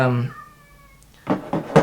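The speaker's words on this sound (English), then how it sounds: "Cat's meowing again." A cat gives one drawn-out, tonal meow indoors, fairly close and clear, followed by a few short knocking thuds.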